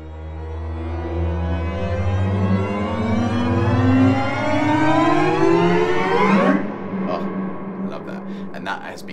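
A dense string ensemble slides upward in chaotic overlapping glissandi, swelling into a loud crescendo before cutting off into scattered plucks.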